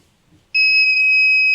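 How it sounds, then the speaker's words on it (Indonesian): A buzzer on a binary-code safe lock circuit blares after a wrong input, a sudden loud, steady piercing electronic tone that starts abruptly from near silence and holds without a break. "Bisa lihat buzzer menyala dan lampu merah menyala, menandakan kondisi input yang diberikan salah"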